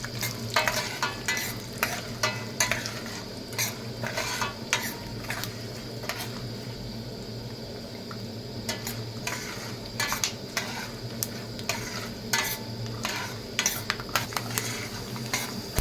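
Spice tempering frying in oil in a pan on a small stove for a tamarind dish, a continuous low sizzle with frequent rhythmic spoon clinks and scrapes against metal, close and without speech.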